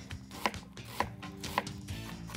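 Three evenly spaced knife chops through an onion on a cutting board, soft and close, with a steady low background hum.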